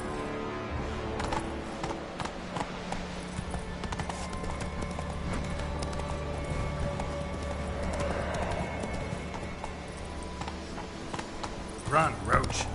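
Geralt's horse Roach gallops in The Witcher 3, hooves pounding in a fast steady rhythm alongside game music and ambience, with a brief louder burst near the end.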